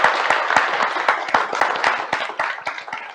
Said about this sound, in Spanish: un aplauso final para Álvaro